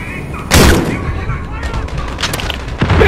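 Gunfire in the Call of Duty Modern Warfare campaign: a loud, booming shot blasts in near the start, and a second heavy blast hits near the end, each trailing into a rumbling decay.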